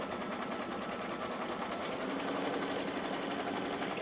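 An embroidery machine sews a straight stitch around appliqué fabric on a quilted placemat held in a hoop, a dense, even, continuous mechanical whir with rapid needle pulses at steady loudness.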